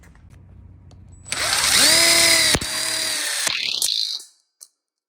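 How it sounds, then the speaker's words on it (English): A power drill drives screws into the top of a welded split bar for an outdoor kitchen, a loud high whine rising and holding for about three seconds, then a sharp click as it stops. "Now the next step is we're going to go ahead and put our screws in the top here."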